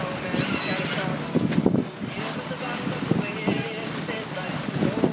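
A 27-foot O'Day sailboat under way on the sea off Maine, with steady wind rumbling across the microphone and water rushing and splashing against the hull throughout.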